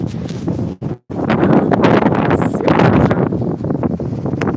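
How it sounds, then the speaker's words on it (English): Heavy wind buffeting the microphone, a loud continuous rumbling roar with a brief dropout near the start, then steady gusting throughout. "when it comes close, it gets really windy"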